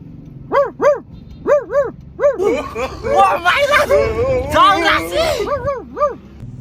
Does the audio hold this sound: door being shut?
no